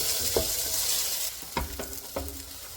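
Hot water cornbread frying in oil in a skillet gives off a steady, bright sizzle, broken by a few sharp spatula scrapes and taps near the pan.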